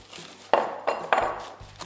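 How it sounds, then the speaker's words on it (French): Ceramic baking beads tumble into a parchment-lined tart shell in three distinct rattling pours, each a sharp clattering burst that trails off, close up with no talking. "je mets à l'intérieur du fond de tarte une feuille de papier sulfurisé et je vais garnir de noyaux spécial cuisson"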